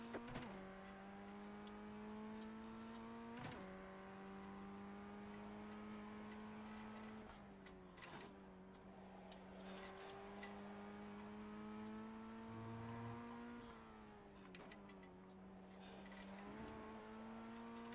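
Engine note of a Ray FF1600 beginner formula car in iRacing at Virginia International Speedway, a steady buzzing drone that rises through the gears with repeated upshift breaks, sustained and fairly close.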